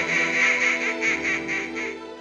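Baby ducks quack as a sound effect in an Ugly Duckling storytelling, a rapid series of bright, nasal peeps and quacks repeating evenly and loudly for about two seconds, with no talk.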